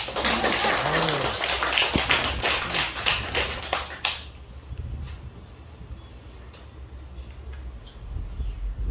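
Congregation in a church service breaks into dense, loud applause for about four seconds, then the clapping stops and leaves a quiet room hum.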